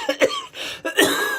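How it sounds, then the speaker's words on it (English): A person coughs hard to clear the throat after snorting from laughing: a few harsh, close-up bursts in quick succession with no talk. "Coughing it out."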